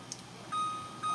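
A kitchen timer set for three minutes of ramen noodles gives two electronic beeps, each a sustained high tone following a brief faint click, with a short gap between them in a quiet room.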